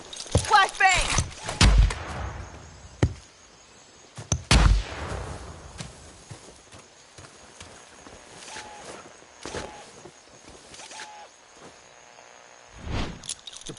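Bursts of gunfire and a sharp flashbang blast crack out in the video game Predator Hunting Grounds, loud impacts at the start and middle followed by scattered shots, footsteps and quieter game noise with voices.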